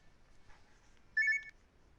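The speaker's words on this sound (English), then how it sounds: "I always forget to turn my alarm off." An alarm going off in a quiet room, a brief faint electronic beep followed by a louder short two-tone beeping burst.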